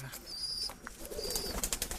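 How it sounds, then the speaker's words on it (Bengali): Andhra breed pigeons in a loft coo softly and rustle nearby, with brief wing movement and faint chirps over steady background noise. "এটা একটা আন্ধ্রা জোড়া"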